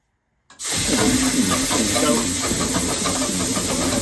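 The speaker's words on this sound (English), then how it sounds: "Now it was time for Andrew to take a turn to try and start the engine." A sailboat's engine is air-started with a sudden loud burst of compressed air that settles into a steady, close hiss with a rough churning texture underneath, continuing without pause.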